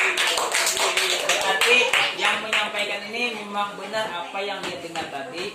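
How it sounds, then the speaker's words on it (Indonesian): Children applaud with quick, bright clapping that fades under an adult voice speaking. "Ya, tepuk tangan."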